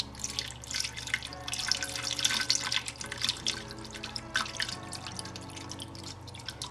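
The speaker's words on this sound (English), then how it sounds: "So gently pour this water, so I don't want to disturb the sand." Water is gently poured into a planted betta fish tank over sand, a soft continuous trickle with light splashing and dripping that runs steadily for several seconds, with no voices.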